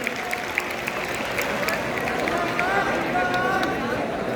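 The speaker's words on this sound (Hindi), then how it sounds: "एक बार जोरदार तालियां।" A live audience applauds a student named Sanskriti during a physics and chemistry coaching class event, a dense steady patter of many hands filling the room, with voices chattering underneath.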